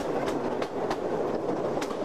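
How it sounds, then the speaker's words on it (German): Swiss Wengernalpbahn mountain rack train rolling past at a passing loop, a steady rumbling rail noise with faint periodic clicks from the wheels, fairly close and continuous. "An dieser Ausweichstelle kommen wir an vielen Gegenzügen vorbei."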